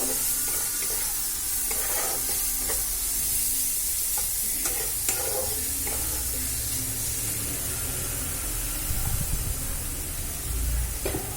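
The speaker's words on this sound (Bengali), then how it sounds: "ভালো করে নাড়াচাড়া করে নেব" Star fruit chutney with salt and turmeric stirred in a hot pan, a continuous sizzle and hiss with intermittent scraping strokes of the spatula, close and steady.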